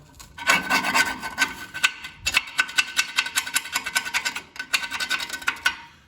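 A flat screwdriver scrapes rust from a Jeep TJ frame in rapid rasping strokes, close and loud, with short pauses between bursts of gritty scraping.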